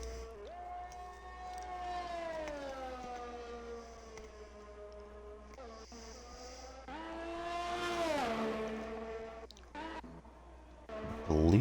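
An F1 race car from F1 2021 running a qualifying lap, its engine note a loud sustained whine that climbs and falls through the gears, with a brief dip near the middle and a fresh surge at the end.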